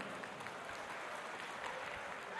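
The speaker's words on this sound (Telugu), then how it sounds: "చప్పట్లతో స్వాగతం చెప్పుదాం." A crowd at a Telangana political gathering applauds to welcome guests, a steady, even wash of clapping that holds throughout at moderate, slightly distant volume.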